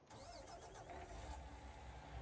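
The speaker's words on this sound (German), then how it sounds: "Ich würde sagen, wir steigen mal ein und starten mal den Motor." An Iveco Magirus truck engine starts in Farming Simulator 19, a steady low rumble and mechanical churn that settles into a continuous idle, faint and with no one talking.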